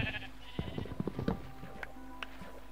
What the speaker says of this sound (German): hier sind eine Menge Schafe unterwegs